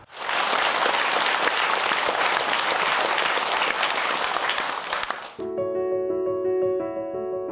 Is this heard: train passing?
no